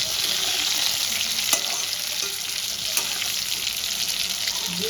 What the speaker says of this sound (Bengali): পটলগুলো আমি লাল করে ভেজে তুলে নেব।